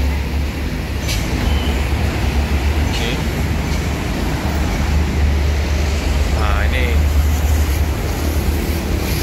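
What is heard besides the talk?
Palembang LRT train passing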